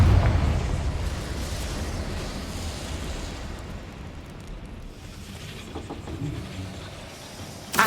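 A Confringo spell explodes in the video game Hogwarts Legacy as a loud burst at the start, followed by a long rumbling roar that slowly fades, with a few softer crackling bursts later.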